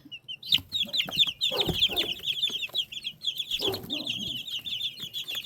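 Chickens on a farm, including a small brown one, cluck and chirp in a busy flock, with repeated high calls running throughout and louder bursts of clucking near the microphone.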